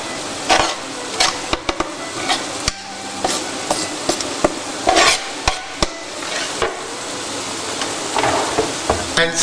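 Minced garlic and mushrooms sizzle in a hot pan while a utensil stirs and scrapes, giving a steady frying hiss broken by frequent sharp clicks and knocks against the pan.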